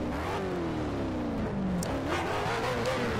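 A race car engine in the Need for Speed Shift video game revs and climbs through gears, its whine rising and dropping steadily at close range with no talk.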